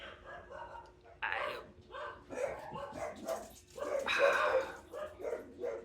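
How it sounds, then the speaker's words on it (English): Dogs bark inside a house in repeated bursts, some yipping and whining mixed in, heard at moderate distance in the background behind a room where someone is talking about cards. "that's my dog's barking"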